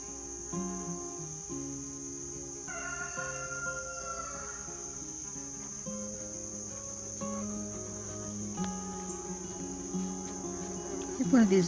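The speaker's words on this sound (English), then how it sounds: "One of these good news bees buzzing around me." Bees buzz faintly in a garden in the morning, thin droning tones drifting in and out among steady insect chirring, with a brief louder pass near the end.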